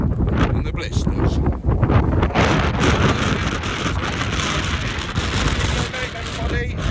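Strong wind buffets the microphone on an exposed hill along the South Downs Way, a loud continuous roar with gusty rumbles throughout.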